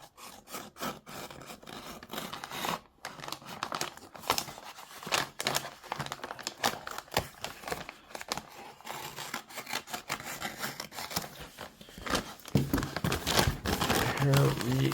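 Amazon package holding bike tube slime being cut open, close crinkling and scraping of plastic and cardboard with rustling handling noise throughout, a person talking over it.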